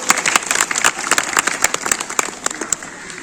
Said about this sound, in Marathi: सर्वांनी एकदा जोरात टाळ्या वाजवल्या पाहिजे